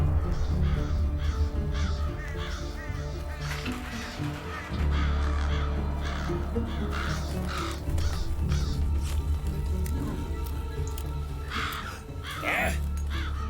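Repeated crow caws sound over orchestral score and ambience in the Wingfeather Saga animated series, harsh calls recurring at intervals through the scene.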